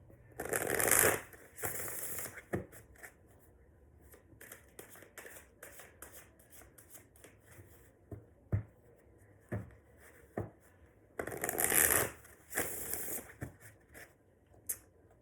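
Crisp bursts of tarot cards being shuffled, two longer riffles separated by quieter taps and soft handling of the deck, close and fairly clear.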